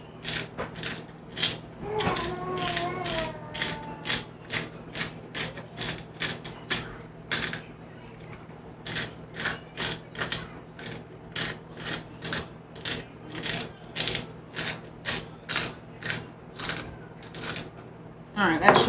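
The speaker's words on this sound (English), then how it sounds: "So I've got the Himalayan rock salt, and it's got a grinder on it, so I need to grind this up really quick before I put this in there." Himalayan rock salt is ground in a hand grinder, giving a long run of sharp, close crunching clicks in a quick, regular rhythm, with a short pause midway and a brief voice-like tone near the start.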